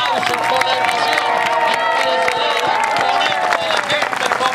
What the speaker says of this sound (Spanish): Vean ustedes cómo vibran cálidamente con el aplauso, con la emoción